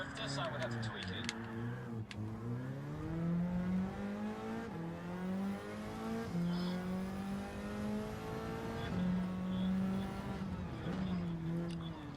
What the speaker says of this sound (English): This engine sounds like its muffler is a fuzz pedal for guitars.